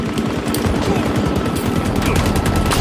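Automatic gunfire from the Halo Infinite video game: dense, rapid bursts of shots rattle on without pause, loud and close throughout.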